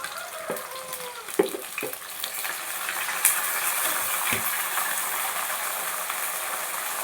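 Tomatoes tipped into a pan of golden sautéed garlic and onion, giving a few sharp clatters and scrapes at the start before a steady frying hiss carries on alone.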